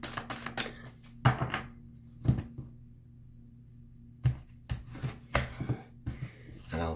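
Tarot cards are cut and shuffled close up, with short bursts of crisp riffling and slapping interrupted by a quiet pause, then several more quick shuffles and taps.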